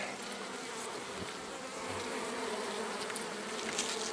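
Dense, steady buzzing of many honeybees swarming around an opened wooden hive outdoors on a warm spring day, close and continuous throughout with no talking.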